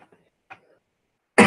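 A person on a live stream coughs once, loud and close, a sudden harsh burst at the very end after a few faint, scattered mouth sounds in near silence.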